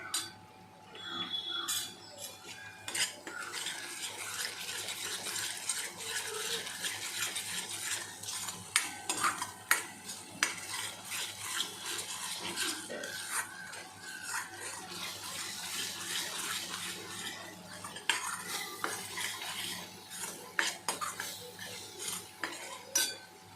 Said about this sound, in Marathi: ग्रेव्हीला चांगलं आपला तेल सुटेपर्यंत हलवून घ्यायचं आहे